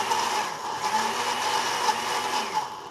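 A food processor whirs while chopping peppers seasoned with salt and pepper, a continuous motor drone with slight surges as it pulses, fairly close and loud with no voices.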